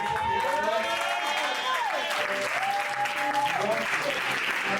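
A church congregation applauding in a steady, dense roar of clapping that fills the room, with sung or sustained voices layered over it.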